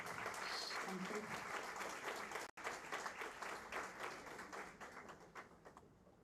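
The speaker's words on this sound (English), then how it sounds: "May we have a huge round of applause, please?" Audience at an inauguration ceremony bursts into loud, sustained applause that fills the hall, briefly cut off midway, then tapers gradually toward a quieter patter.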